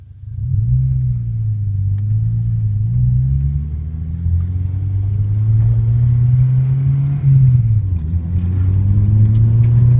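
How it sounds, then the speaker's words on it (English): A manual five-speed car pulls away and climbs in pitch, dropping briefly at each gear change before rising again; steady, close, no talking. "show you how the car sounds with all 5 gears"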